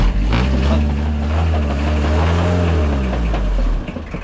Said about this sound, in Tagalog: Kailangan talaga laging paandar ang makina.